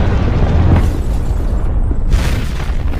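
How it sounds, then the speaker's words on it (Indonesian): A bomb goes off at a mall in a film, a heavy deep boom that rumbles and rolls on for several seconds, loud and alone. "ledakan di mall itu pun membuat Aren panik"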